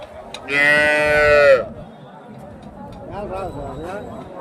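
A cow lets out a loud, drawn-out moo up close at a crowded cattle market in Chintamani, Karnataka, followed by softer lowing calls from other cattle while people chatter nearby.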